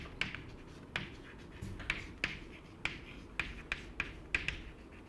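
A lecturer writes on a board during a physics lesson, giving a quiet run of scratchy strokes and sharp taps spaced about every half second to a second, with no talk.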